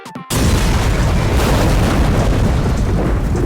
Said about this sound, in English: The neutron flux rises rapidly until the explosion.